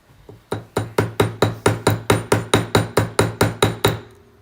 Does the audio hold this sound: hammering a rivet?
yes